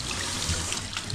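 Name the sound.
water rinsing hair at a barber shop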